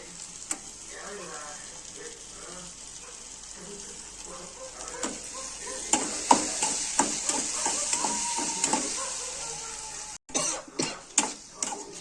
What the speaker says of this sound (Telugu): ఇది నూనెలోకి వేస్తున్నాను.